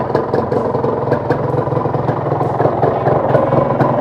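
A Yamaha VR150 motorcycle engine idles steadily nearby, a low chugging rumble with faint rhythmic clatter and no voices.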